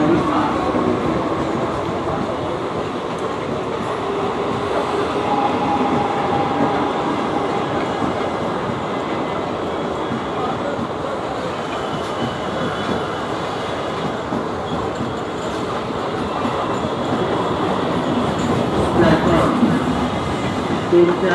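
A Mumbai local train passes a platform at Dadar railway station, making a loud continuous rumble with rhythmic wheel clatter and faint squeals throughout. Platform noise and voices mix underneath.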